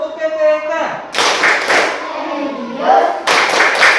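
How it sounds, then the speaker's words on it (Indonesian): A classroom of pupils performs the rhythmic PPK clapping chant, sharp bursts of claps in two loud groups alternating with chanted voices, close and energetic. "Ya, tepuk PPK."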